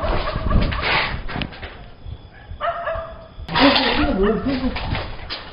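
A dog barks outdoors in a short run of sharp, loud barks, followed by quieter gaps, whimpers and a second louder burst, with faint voices underneath.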